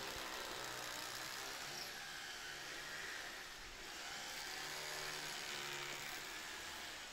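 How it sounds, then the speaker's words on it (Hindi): A power drill bores slowly into stone while fitting a UPVC casement door, a steady whirring grind held close and loud for several seconds, dipping slightly midway, with no talk. "पत्थर पर जब भी ड्रिल करनी हो तो धीरे धीरे से ड्रिल करना चाहिए"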